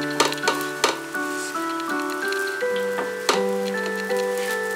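Wheat dosa sizzling in ghee on a hot pan, a steady close crackle with a few sharper spatters, no talking.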